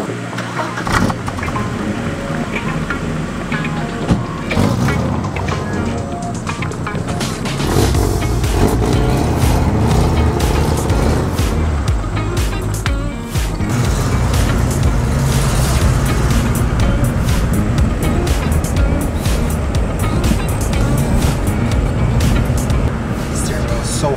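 A 1991 Audi 80 Quattro drives along with a steady, loud engine and road rumble throughout, the tone rising slightly partway through, while people talk inside the car.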